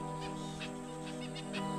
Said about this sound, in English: Birds hate leopards, and they make a point of telling them that whenever they see them.